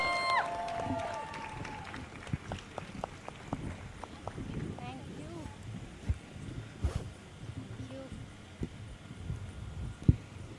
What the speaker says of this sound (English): So give a huge round of applause and welcome on stage, Priyanshi